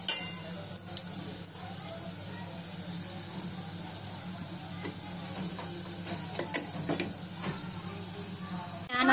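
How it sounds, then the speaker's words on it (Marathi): Whole spices sizzle in hot oil left from frying eggs for egg biryani, a steady close crackling hiss with a few sharp pops and clicks. "आता त्याच तेलामध्ये मी थोडे खडे मसाले घेतलेला आहे."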